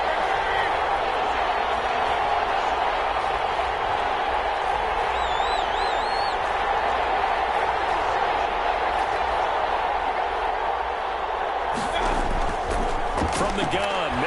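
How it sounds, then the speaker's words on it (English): Stadium crowd at a Cleveland Browns NFL football game, a steady loud roar filling the whole stretch with brief whistles and a sharper burst of noise near the end, no clear speech over it. "Crowd getting in it a bit already."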